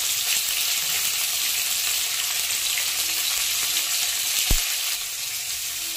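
Mourola fish fry in hot oil with turmeric and salt, giving a steady, even sizzle throughout, with one brief knock partway through and no talking.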